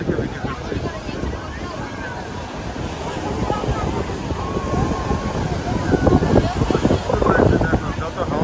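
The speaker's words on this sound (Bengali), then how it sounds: "সমুদ্রের জলের ঢেউয়ের আনন্দ নিচ্ছে আর কি" Sea waves and wind at Digha beach, a continuous rushing surf swelling louder near the end, with gusty wind buffeting the microphone and voices faintly mixed in.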